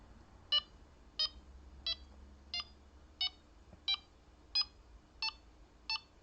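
A Delkim carp fishing bite alarm set to high beep speed gives nine evenly spaced electronic beeps, each short and bright, repeating about every two-thirds of a second in a quiet room.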